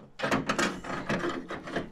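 A movable tie-down point on a Nissan Frontier truck bed deck rail is loosened, giving a few close scraping, clattering rubs in short bursts.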